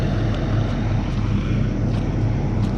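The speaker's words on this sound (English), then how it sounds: "My truck is so loud." Loud, steady engine drone from a running truck fills the whole stretch with a dense low rumble and wind-like roar, close to the microphone, with no break or change in pace.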